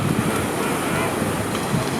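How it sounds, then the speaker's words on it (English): Wind blows across the black sand beach at Gold Harbor, South Georgia, on a gray day, a steady rushing roar mixed with surf, fairly loud and continuous. "Today is a gray, windy day."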